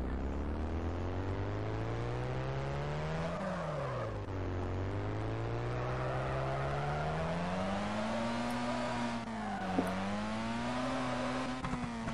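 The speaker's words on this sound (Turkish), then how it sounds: "Güzel drift yapıyor namussuz ya." A Ford F100 drifting in the game Drift Street Japan, its engine droning steadily at high revs for the whole stretch. The pitch dips and climbs as it slides, with tire noise underneath and no speech.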